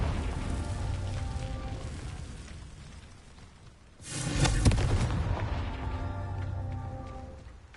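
A Confringo blasting spell explodes in the video game Hogwarts Legacy, a sudden loud booming burst midway that rumbles and fades into crackling debris, set against ongoing game ambience.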